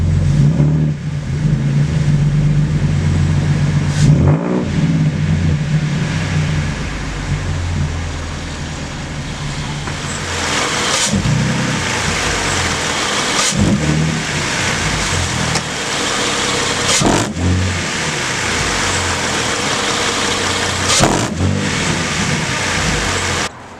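A car engine fitted with a C&L aftermarket air intake idles and revs repeatedly with a deep, throaty tone, rising and falling in several bursts, close by.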